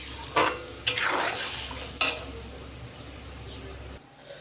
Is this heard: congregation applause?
no